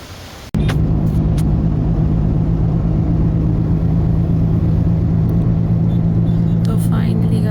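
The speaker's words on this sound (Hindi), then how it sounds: "गाड़ी में बैठ गए हैं और गाड़ी तेज़ी से घर की तरफ जा रही है" A car drives fast toward home, heard from inside. After a sharp click, a steady, loud, low engine and road rumble holds throughout.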